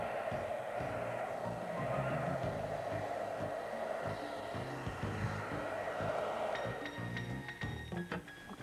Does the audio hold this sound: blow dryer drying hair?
yes